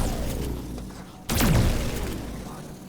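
A sudden loud burst as a robot's head explodes in System Shock, a sharp crack followed by a sustained crunching rumble over steady game background noise.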